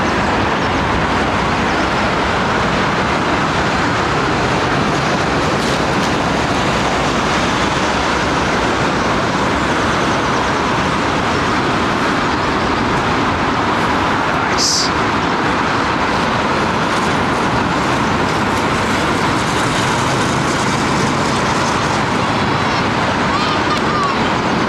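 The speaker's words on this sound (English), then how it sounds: "Nice set of reverser petals on those Trent 700s, clamshells, whatever you want to call them." Airbus A380 landing with Trent 700 thrust reversers deployed, a steady broadband roar that holds loud and close for the whole stretch with no break.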